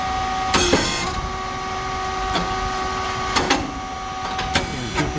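A SYP4509 rice cake machine with coated moulds, a hydraulic pump and a fan runs loudly with a constant mechanical hum, broken by several sharp hissing and clanking bursts at uneven intervals.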